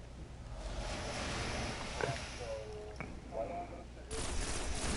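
Gunfire in the video game Destiny during the Crota's End raid: bursts of rapid shots and sharp blasts crackle under people talking in voice chat, with a loud dense volley near the end.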